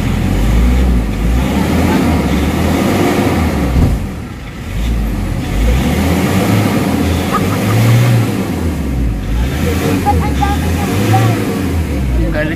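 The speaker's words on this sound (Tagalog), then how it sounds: "pakinggan nyo mabuti yung RPM kung gaano ka low power" Nissan Urban Premium NV350 van with low power and throttle delay, its engine droning and rising in a low, heavy rumble throughout, with someone talking over it.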